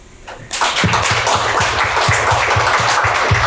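An audience at a real-estate fund panel bursts into applause for a corporate sponsor, the clapping starting suddenly after a quiet moment and continuing as a loud, sustained round with sharp individual claps close by.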